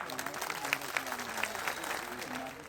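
Crowd in Latiya standing and clapping at a public speech, continuous dense clapping with voices talking over it throughout.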